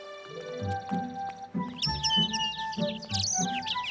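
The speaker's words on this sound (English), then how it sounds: "Oh, Papa! Can we look at the birds?" Cartoon birds chirp and warble in bright, quick tweets and trilling calls over a light musical backdrop, lively and close.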